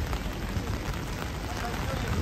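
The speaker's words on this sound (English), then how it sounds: "I'll let you enjoy this rain weather" Steady rain in Midtown Manhattan, New York City, falling as a dense, even hiss across the whole stretch with no clear breaks.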